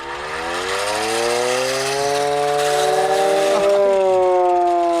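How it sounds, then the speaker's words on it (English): An antique air raid siren is demonstrated close by, its loud wailing tone climbing steadily in pitch and volume over several seconds, heard alone without talk. "You want to see something really useful? Air raid siren."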